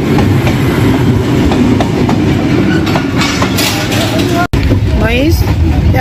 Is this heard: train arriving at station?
yes